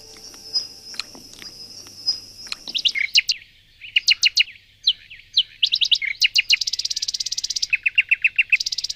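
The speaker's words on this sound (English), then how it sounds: "If you look at the Song of a Nightingale, it's enormously complex." A nightingale sings loudly and close by, a complex run of rapid chirps, trills and whistled phrases in quick bursts, alone over faint background hum.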